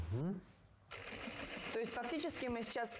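A sewing machine stitches a denim seam on a tote bag, its fast mechanical whir running steadily after a brief pause, with a voice talking over it throughout.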